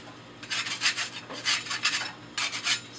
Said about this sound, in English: Scrape that off a little.